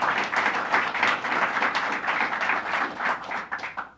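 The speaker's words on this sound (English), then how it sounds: "Let's give her a big round of applause" An indoor audience applauds a speaker at a state affordable housing announcement, with dense, lively clapping throughout that thins slightly at the end.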